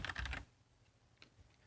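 A short burst of computer keyboard typing, a quick cluster of keystrokes at the start, then a few faint isolated taps, close and without speech.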